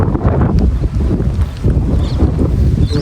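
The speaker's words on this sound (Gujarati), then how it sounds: "વાયરો ફૂલ ચાલુ એટલે મારો અવાજ હરખો નહીં આવે." Strong gusting wind buffets the microphone outdoors in a village as rain approaches, a loud rumbling roar that swells and dips for three seconds, with no speech.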